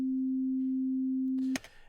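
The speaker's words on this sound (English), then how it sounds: "Now, I have this sine wave here," A steady pure sine test tone in Cubase holds at one pitch for about one and a half seconds, then stops abruptly with a brief click and a faint hiss of noise.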